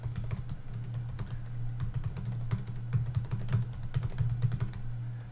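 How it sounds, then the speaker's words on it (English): Steady rapid typing on a computer keyboard, many light clicking keystrokes in an uneven rhythm over a low background hum, with no voices. "That is the sound of me typing as I'm trying to remember who wrote that."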